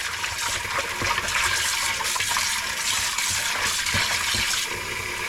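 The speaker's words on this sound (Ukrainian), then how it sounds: "Вода стекла, ще раз закрили, набралася водичка." Water gushes steadily into a container and drains out while roach fish are rinsed, a loud, even rushing sound with small splashes and no voices.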